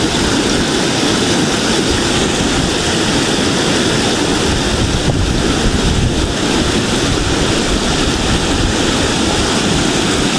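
Lake water and waves with strong wind at a park in Riyadh, a loud, continuous wash of surf and wind buffeting the microphone, with no talking.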